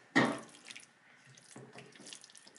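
Water poured from a tap into a sticky, too-firm Ghana meat pie filling to loosen it, a loud splashing burst at the start that settles into a softer, continuous trickle.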